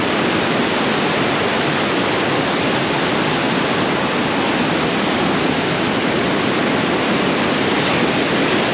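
Niagara Falls pours as a loud, dense, unbroken roaring torrent of crashing water, close and steady throughout with no voices.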